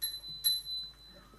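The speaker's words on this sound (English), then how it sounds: "He will ring a bell when the speaker has 1 minute remaining" A timekeeper at a transport forum rings a hand bell once. The clear, bright metallic chime rings out and then fades over a quiet room.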